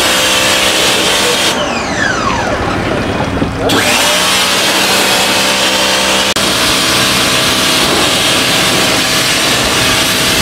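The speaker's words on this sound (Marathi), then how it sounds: "इकडे आपली गाडी आता आपण वॉश करत आहोत" A Honda Activa 6G scooter washed at a washing center, with a loud continuous high-pressure spray hissing throughout, its pitch sweeping down sharply as the jet shifts, then steadying into a constant roar.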